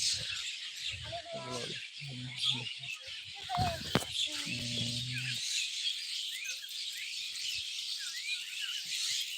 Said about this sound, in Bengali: পাখিদের যে কি সুন্দর কিচির মিচির আওয়াজ